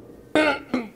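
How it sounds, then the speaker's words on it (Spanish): Someone speaking at a 2019 book forum coughs twice in quick succession, a harsh rough burst followed by a shorter second cough, close and clear. "Y voy a toser nuevamente."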